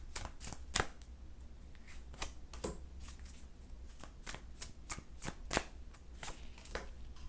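Tarot cards are shuffled by hand in quick, crisp riffling bursts with short pauses between them, close and quiet, with no talking.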